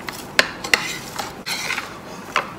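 A cucumber salad with soy sauce and salt is stirred in a bowl, giving light scraping and several sharp utensil clicks at an uneven pace, close and without talk.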